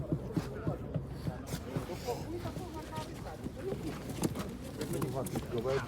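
Pigeons coo and flutter at a market in Wysokie Mazowieckie, Poland, while people talk nearby; soft calls and wing sounds blend into a steady background bustle.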